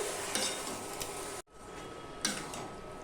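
Lentils being stirred and sautéed in a pan while cooking fish-head dal, giving a low steady sizzle with soft scraping and a few clicks of the spoon, broken by a brief gap, with no talking.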